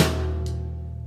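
On a drum kit, a deep, booming drum hit rings out and decays slowly, and a second, lighter strike follows partway through.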